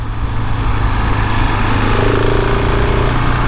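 A 2020 KTM 690 Enduro R motorcycle engine drones steadily and loudly while being ridden on a greasy, twisty country road, holding an even, buzzy pitch from start to finish.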